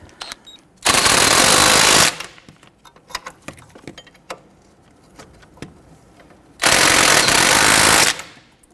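An impact wrench snugs down the nuts on a 2006-2014 Honda Ridgeline front strut and spring assembly, with two loud sustained rattling bursts of about a second each, separated by quieter clicks and handling noises.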